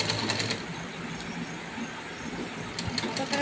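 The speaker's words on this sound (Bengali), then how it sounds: "তো একটা ছোট্ট করে ভিডিও সেলাই শুরু করে দিয়েছি।" A sewing machine stitches fabric for a churidar drawstring, a continuous close mechanical whir with faint rapid ticking and a few brief clicks, no voices.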